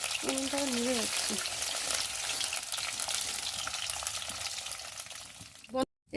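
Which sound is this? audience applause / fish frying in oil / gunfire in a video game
fish frying in oil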